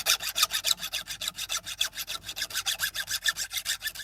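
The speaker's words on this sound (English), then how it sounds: "You see how much the saw's moving around." A handsaw cuts through wood in steady, rhythmic back-and-forth strokes, roughly six rasping passes a second, close and alone, the blade loose in the cut with no vise holding the workpiece.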